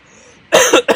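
Two loud, harsh coughs from a person with flu, close up, following a quiet pause, the second one short and sharp.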